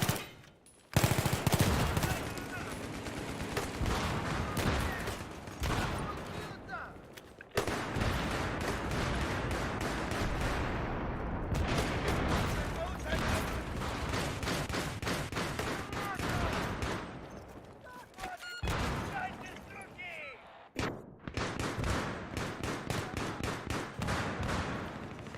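Rapid hip-fired gunfire in Battlefield 3 on PS3, dense bursts of automatic shots with heavy rumble running almost without pause, broken by a few short gaps, loud and close.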